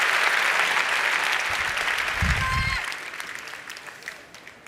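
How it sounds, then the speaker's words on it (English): A large audience at the Slush 2023 startup conference founder stage claps loudly for several seconds, the applause tapering off toward the end, with a brief voice heard amid the clapping. "Give a huge round of applause."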